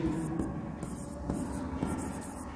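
Someone writes a note on osmotic pressure by hand. Chalk or pen strokes scrape in short bursts close by, and soft speech is heard faintly underneath.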